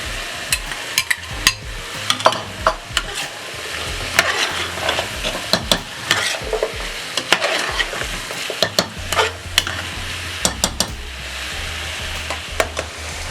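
Chicken curry cooking in a pan as carrots go in, with a steady sizzle and frying crackle under repeated scraping stirs and clinks of a utensil, close and fairly loud, no talking.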